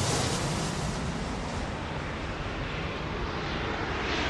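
Jet aircraft roaring down the runway on takeoff in the video game Airport Madness 4, a continuous broad rushing engine noise, loud and steady, with no voices.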